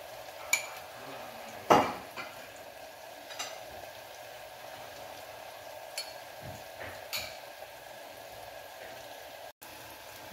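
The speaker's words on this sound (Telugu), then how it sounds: "ఇలా వేగాలి బాగా ఆనియన్" Onions frying with salt in a pan for dosakaya mutton curry, a soft low sizzle under scattered clinks and scrapes of a spoon stirring, close and quiet with no talk.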